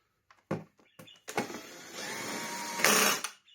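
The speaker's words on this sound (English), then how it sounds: "Sadly, the cable rewind immediately stopped being better." Cable rewind of a Sebo C2 Total vacuum cleaner with a broken rewind mechanism: a few clicks and knocks, then a steady close whirring run that swells louder near the end before cutting off, with no talk.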